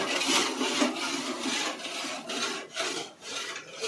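A spoon stirs sugar syrup in a pan for gulab jamun, a close, rhythmic scraping and rubbing in repeated strokes with brief pauses and no voices.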